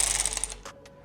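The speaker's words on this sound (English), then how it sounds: "I have a ratchet with a 5mm" A ratchet fitted with a 5mm hex bit turns a bolt on a CFMoto 675SS motorcycle windscreen, giving a brief rapid run of close metallic clicks followed by a couple of isolated ticks.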